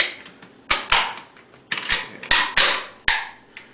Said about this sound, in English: And you reinstall the recoil assembly and the stop cover.